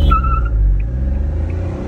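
Race car fitted with a Waheshi exhaust pulling away at the start of a drag race, a loud, steady low engine rumble with a brief higher whine, close and continuous, with no talk over it.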